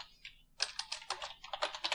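Quick clatter of keys on a computer keyboard while a title is entered, a brief tap, a pause, then a fast run of close, crisp keystrokes.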